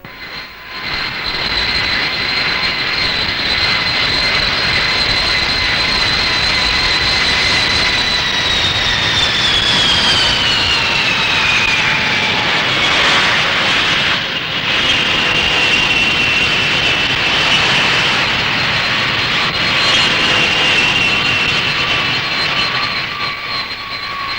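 A fixed-wing jet airliner arriving at an airport, its engine roar loud and steady throughout with a whining tone that slides downward partway through, no voices present.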